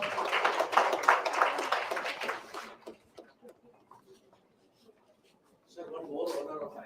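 Audience at the Accendo 2022 event claps in a moderate round of applause that thins into scattered claps and fades after about three seconds, followed by a short stretch of talk.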